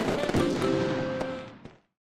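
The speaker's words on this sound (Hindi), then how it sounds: "हैप्पी दिवाली वाला अतरंगी पटाखा" A homemade Diwali firecracker goes off as a loud sustained fizzing burst with a whistling tone and a few sharp crackles, then cuts out into silence.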